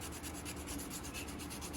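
Sandpaper rubs by hand against a wooden slingshot carved from a tree fork. The back-and-forth strokes are quiet, quick and steady, with no voices.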